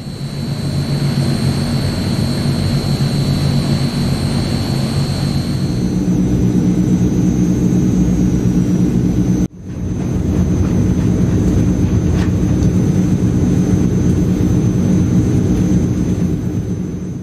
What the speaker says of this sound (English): Inside or out, sounds are a real joy.